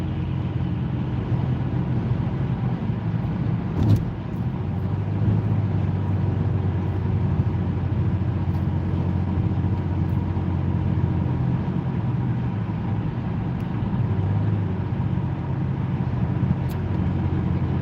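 Interstate highway traffic makes a steady low rumble of engines and tires, with one brief knock early on and no voices.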